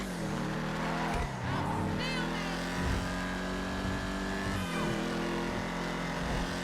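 A Vapid Firebolt ASP pickup in GTA Online drives through city traffic, its engine note droning steadily and shifting pitch as it changes speed among other cars.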